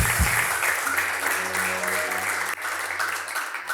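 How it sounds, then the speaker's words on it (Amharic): Congregation at a church service breaking into sustained, dense applause that fills the room steadily, with a low hum of voices and music underneath. "እስቲ በደንብ አጨብጭቡ ለጌታ።"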